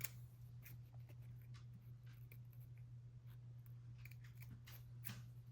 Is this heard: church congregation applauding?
no